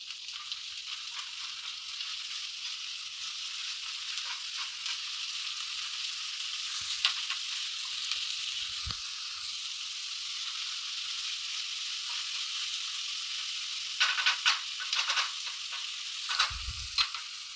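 Green peppers and onions fry in a pan with a steady, bright sizzle throughout, broken by a few faint clinks and scraping stirs near the end.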